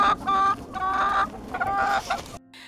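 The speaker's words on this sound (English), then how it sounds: "47 chickens. And we let them free range out in the woods." A free-range flock of 47 chickens roaming in woodland clucks close by, with several overlapping throaty calls that rise and fall before a sudden cutoff.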